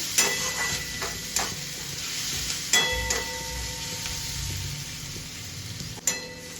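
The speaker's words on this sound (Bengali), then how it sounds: "পেঁয়াজটা ভাজা হয়ে গেছে।" Steady sizzling of onions frying in oil, with a few sharp clinks and scrapes of a utensil against the pan; no talking.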